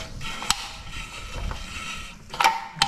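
Lug nuts on a car wheel being snugged up with a wrench during a home tire rotation, giving a few sharp ratcheting clicks spaced apart, close by, over faint mechanical rattles and no talk.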